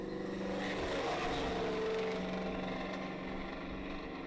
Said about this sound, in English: A Mustang with a catback exhaust. You hear that?